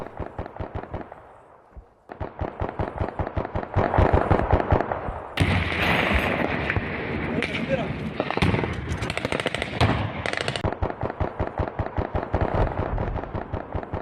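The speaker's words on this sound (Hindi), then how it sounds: "पाकिस्तानी पोस्ट पर ताबड़तोड़ गोलीबारी की गई है अफगान फौज की तरफ से।" Heavy automatic gunfire from Afghan forces on Pakistani border posts, captured as news footage: dense, rapid bursts of shots, loud and nearly continuous, with a harsher, louder stretch in the middle.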